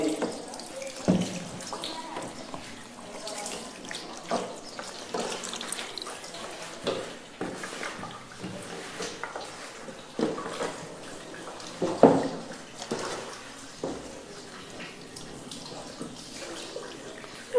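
Water poured over the body during a ritual bath (ghusl), splashing and trickling in uneven bursts with drips and pauses, fairly close and soft, with a voice talking quietly at times.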